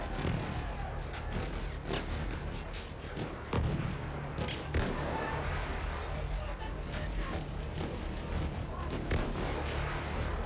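Rapid gunfire and booming blasts from a video game battle, steady and dense throughout with sharp bursts layered over a continuous rumble, with faint talk underneath.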